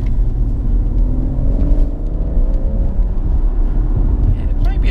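A BMW M140i pulls away in first gear, its engine and exhaust giving a steady, loud low rumble heard from inside the moving car, with a faint rising engine note underneath.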